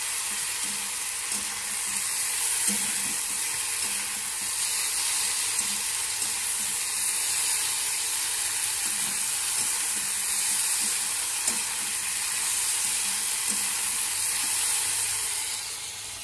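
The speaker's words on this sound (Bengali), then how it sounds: "পেঁয়াজগুলো ভাজা ভাজা করে নিয়েছি, এর মধ্যে একটু জিরে আর একটু রাঁধুনি দিয়েছি" Onions frying in oil with cumin and radhuni give a loud, unbroken hiss and sizzle that holds evenly for the whole stretch, with no voices.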